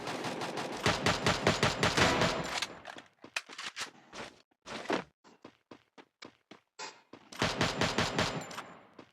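AC-80 rifle gunfire in the Free Fire mobile game, a ranked clash squad match, comes as dense rapid bursts with spaced single shots between, loud and close, with no talking over it.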